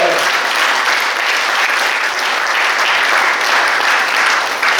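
A church congregation claps continuously in praise of Jesus Christ, a dense, steady wash of many hands applauding close by for the whole stretch, with no break in the sound.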